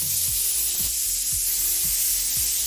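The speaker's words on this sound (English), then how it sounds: "Even the orange juice is sizzling." Orange juice hits a hot pan to start a sauce and sizzles with a steady, bright hiss throughout, while low, close thumps repeat at a regular pace underneath.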